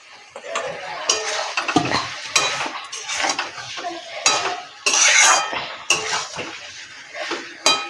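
Potatoes and spices being stirred in a pot for a Bengali cauliflower and egg curry: a close, busy run of metal spoon scrapes and clatters against the pot, with a faint sizzle underneath and no talking.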